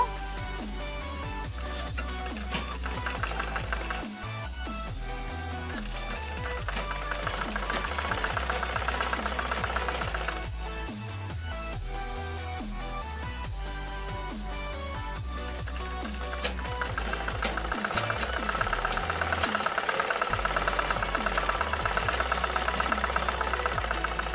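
A sewing machine runs steadily as it stitches a folded ribbon onto a child's frock made from fabric scraps, a continuous mechanical hum with a brief pause partway through.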